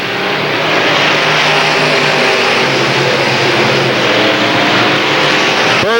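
Limited late model race cars roar around an oval track in a 1993 heat race, a loud, dense and continuous engine drone as the pack runs flat out.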